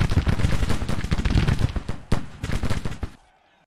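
Rapid, dense volleys of cannon and gunfire from a Civil War battle in the strategy game Grand Tactician, booming loud and continuous for about three seconds before cutting off abruptly into quiet.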